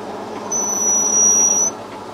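A metal lathe turns a reamer at roughly 100 rpm in a modified ER25 chuck, a low steady hum overlaid by a brief, piercing high-pitched whine that rises and cuts off after about a second.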